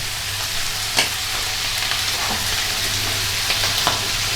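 Baked beans with bacon and wine cook down in a pan, giving a loud, constant sizzle and bubbling hiss, with a few soft taps from a utensil. There is no talking.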